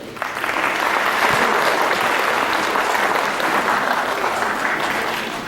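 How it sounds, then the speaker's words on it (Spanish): Strong audience applause at an economists' association event as an award is presented, a thick steady roar of clapping that swells quickly and holds throughout, with no speech over it. "Lo recibimos con un fuerte voto de aplausos."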